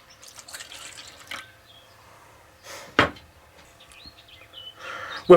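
Eggs and half a cup of milk poured into a bowl for a country fried steak batter, with wet splashing and dripping bursts, one sharp liquid splat in the middle and another at the end.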